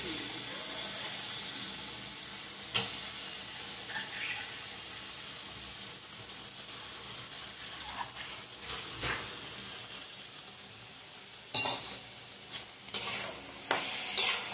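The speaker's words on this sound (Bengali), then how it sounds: "কচুরলতি সিদ্ধ করে রেখে দিয়েছি, কচুরলতিটা দিয়ে দিলাম।" Boiled taro stolons are added to a pan for stir-frying, with a soft continuous sizzle, occasional scraping of the stirring spoon and a few louder clatters toward the end.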